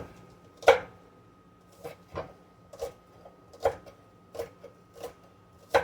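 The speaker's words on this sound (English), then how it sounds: "I'm going to chop a few onions, just little slice of onion." A knife chops garden onions on a cutting board with about nine crisp, evenly spaced taps, close and clear against a quiet kitchen background.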